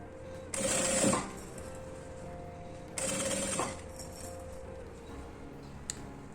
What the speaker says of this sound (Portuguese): E faço uma costura bem na bordinha, pra segurar o viés, desse jeito.